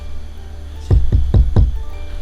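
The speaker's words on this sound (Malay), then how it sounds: "Bunyi macam orang duk ketuk tingkap." Four sharp knocks on a window glass land in quick succession, loud and close, over a low background rumble with no speech.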